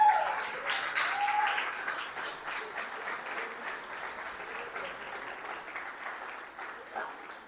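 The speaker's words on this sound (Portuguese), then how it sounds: "Aplauda o Senhor a igreja." A church congregation applauds during a service with loud, sustained clapping from a large crowd, steady throughout and easing only slightly toward the end.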